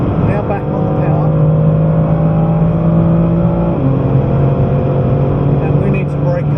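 A BMW M3 engine accelerates on the Goodwood circuit, a steady loud drone with rising tones heard from inside the car, with talk over it.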